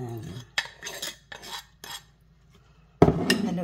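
Utensils stirring and tossing a Thai vegetable salad in a bowl, several close scraping clinks in uneven bursts separated by short pauses, with a final louder clatter and no talk.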